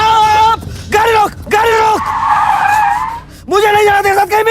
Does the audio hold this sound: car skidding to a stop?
yes